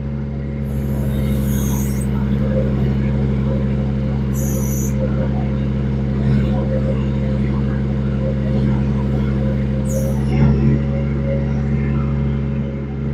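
A JT5120 1.2 ton mini excavator drives at low speed, its diesel engine droning steadily and loudly up close, with a few brief clanks and hisses breaking through the constant rumble.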